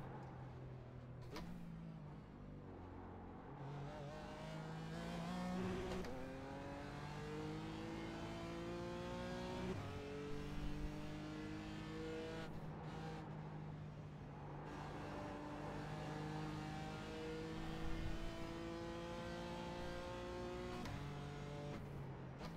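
Race car lapping Barber track, engine climbing and falling through repeated gear pulls with throttle eased back on after braking, continuous and close, no talk.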